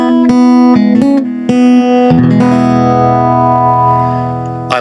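Ibanez Troubadour T150S acoustic-electric guitar plucked with the thumb through an amp, giving warm, rounded notes: a few separate single plucks, then a strummed chord that rings out and slowly decays, loud and close with no talking.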